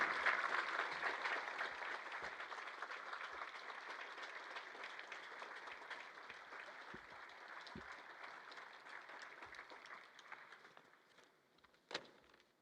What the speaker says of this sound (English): Please give a warm round of applause for Scott and Ed Snyder Youth Hockey and